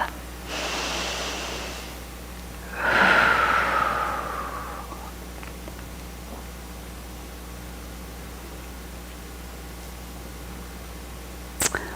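A congregation at a Sunday spiritual service breathes together: a soft airy inhale, then a louder collective exhale that swells and fades over a few seconds, followed by quiet room tone.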